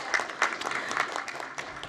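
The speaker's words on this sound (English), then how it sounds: "Round of applause, please." A small audience at a local area forum meeting claps briefly in a light, scattered burst of applause.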